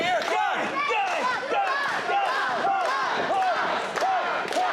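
A dense wrestling crowd at a New York Championship Wrestling show cheers and shouts in rising, chant-like waves, loud and continuous throughout with no pause.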